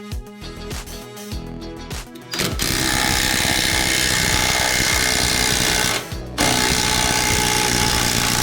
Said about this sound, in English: Use a 21mm socket and a 21mm spanner to remove this bolt.